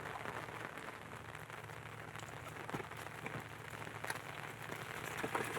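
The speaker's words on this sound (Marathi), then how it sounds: "पालघर जिल्ह्यात जो पाऊस आहे तो सातत्याने सुरू आहे" Steady rain falls in Palghar during a red-alert downpour, a continuous, even patter of drops on surfaces with a low background hum and no voices.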